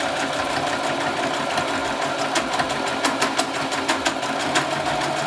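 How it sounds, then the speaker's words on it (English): A sewing machine stitching along fabric, a fast, steady mechanical whir with rapid needle clatter and a few louder ticking pulses, close and continuous with no talking. "So I'm gonna position the sewing machine to start sewing right there."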